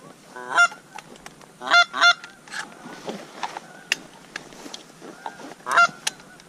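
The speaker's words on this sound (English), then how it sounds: "These geese are coming in." Geese honk repeatedly in loud bursts during a late-season goose hunt, several birds calling over one another in clusters as they fly in, with quieter honks in between.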